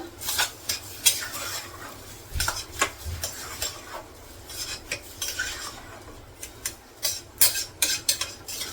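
A spoon stirs and scrapes ginger frying in hot oil and ghee in a pan, giving irregular metallic clinks and scrapes over a faint, steady sizzle.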